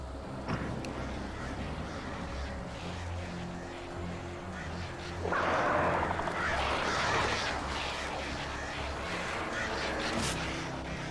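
Hostile birds attack in the Alan Wake video game, harsh cawing cries rising over a low droning game soundscape, with a louder burst of flapping and screeching midway, close and agitated.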